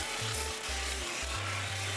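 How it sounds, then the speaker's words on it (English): A disc sander grinds against plywood in a quiet rasping hiss, with short pressing and lifting strokes that shift the tone over two seconds, faint and close with no voices. "cleaning it up on the disc sander."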